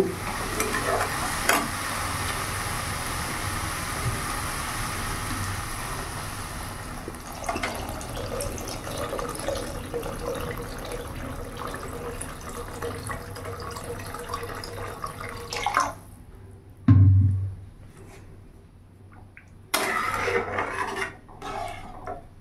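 Vegetable soup in a pot with pepper powder added, stirred and sizzling as water is poured in, giving a rushing, hissing surge and bubbling with scraping and clatter throughout.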